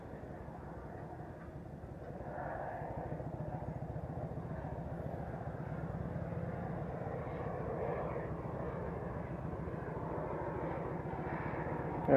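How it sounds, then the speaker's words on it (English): F-18 fighter jet at an airshow passing low overhead at reduced speed, a steady broad engine roar holding loud throughout with a deep rumbling low end. "it's an F-18"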